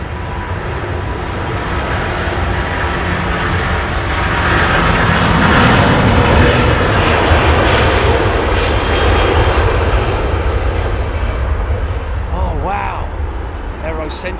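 A British Airways jet at Heathrow gives a loud, sustained engine roar that builds to a peak near the middle and then holds, with voices talking over it.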